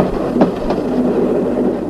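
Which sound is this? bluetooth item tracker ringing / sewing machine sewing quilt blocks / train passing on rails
train passing on rails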